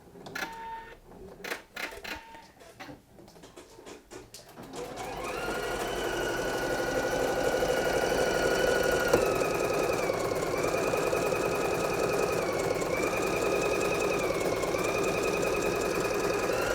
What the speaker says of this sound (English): I'm going to press the start button and stitch the design out